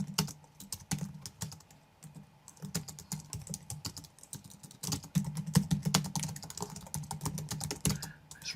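Rapid, steady typing on a computer keyboard, dense close key clicks in bursts with short pauses, a quick summary being written, no voices.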